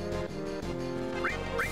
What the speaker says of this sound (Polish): O nie, to kury!